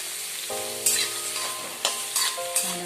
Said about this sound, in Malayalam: ഇത് നല്ലോണം ചുമക്കെ വറുക്കാം, വഴറ്റിയെടുക്കാം.